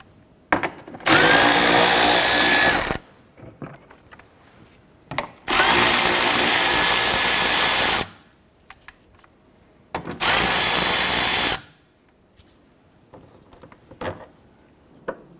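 Three bursts of a power tool loosening and removing a 10mm bolt on a 2012-2017 Toyota Camry inner fender liner, each a steady high whir lasting two to three seconds, separated by quiet pauses with small clicks and handling noises.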